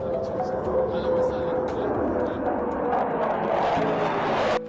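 Airplane flying over an official state welcome ceremony with a military band: a steady, loud engine roar fills the whole stretch, with crowd and voices mixed underneath.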